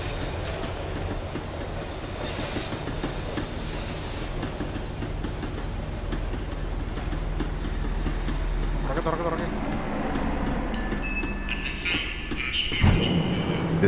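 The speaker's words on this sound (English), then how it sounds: "The tram was slowing down, and I'd only just gotten on board." A tram in Max Payne 3 rumbles and rattles as it slows, its wheels squealing in long metallic tones over steady low rolling noise, with a heavy clunk near the end.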